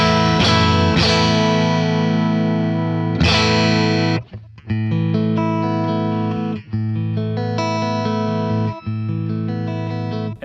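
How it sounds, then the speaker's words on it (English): Electric guitar played through a compressor effect with some distortion, sustained chords and notes held at an even, flat loudness, strummed repeatedly with brief gaps, close and without talk. "So it doesn't matter how hard I hit the guitar, it doesn't get any louder."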